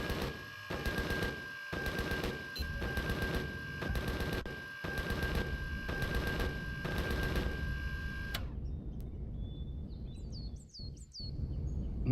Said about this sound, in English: What on earth are you shooting at?